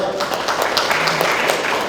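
Audience applause after a presentation at an academic symposium on Jangheung rock inscriptions, a continuous, fairly loud patter of many hands with faint voices beneath.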